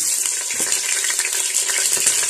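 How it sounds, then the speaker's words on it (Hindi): Onions frying in hot oil for pulao give a loud, dense, crackling hiss, close and unbroken across the short stretch, with no voices. "सबसे पहले हम इसमें ऑयल डालेंगे। तो चले, प्याज डाल दिया"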